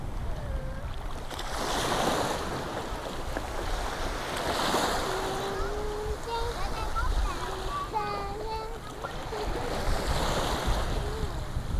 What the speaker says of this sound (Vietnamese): Sóng biển đánh nhẹ nhàng.